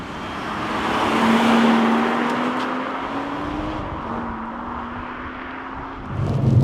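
A tuned BMW M140i drives on the road, its engine droning steadily from inside the cabin as it pulls through a rising gear, then eases before a shift near the end.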